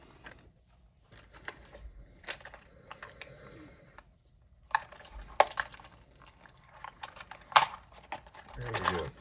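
Plastic packaging on a Brinks 164 1 1/2-inch anodized aluminum padlock is torn and crinkled in sporadic bursts of crackling and rustling, growing busier toward the end.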